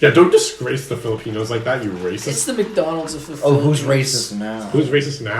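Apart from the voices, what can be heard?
None of the usual background noises is heard.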